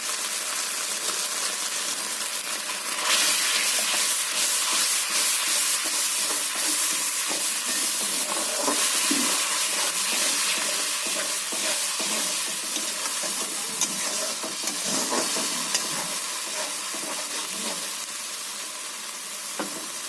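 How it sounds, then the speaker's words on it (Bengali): Spice paste in hot oil gives a loud, continuous sizzle and hiss, crackling close up with a few sharper spits and stirring noises throughout. "তো আমি এবার তেলের মধ্যে আমি মশলাটা দিয়ে দেবো"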